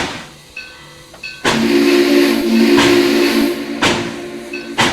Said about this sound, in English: And the two engines departed.